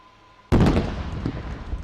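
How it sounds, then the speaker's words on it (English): A kamikaze drone strike detonates on a target tank during an Indian Army Day demonstration, one sudden loud blast after quiet, then a rumbling, crackling decay from some distance. "please turn your attention to the tank on the left to witness a second kamikaze kinetic strike on enemy tank"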